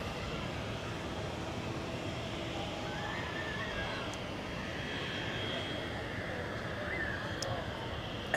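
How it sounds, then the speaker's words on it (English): A United Airlines Boeing 767-400ER heavy jet departing Zurich Airport, a broad steady roar of engine noise rumbling continuously in the distance, moderately loud with no voices. "we have the next heavy departure. United Airlines with the Boeing 767-400ER to Washington"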